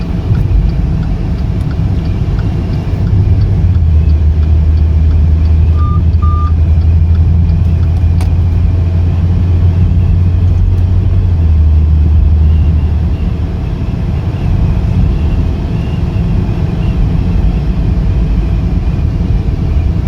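A 2017 Maserati Ghibli on the move, a loud, steady low engine and road rumble heard from inside the car, swelling briefly in the middle with a faint tone above it.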